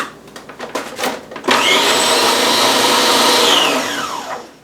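Food processor blending a nut crust into dough: a few short pulses, then a steady loud whirring run for about three seconds that winds down at the end.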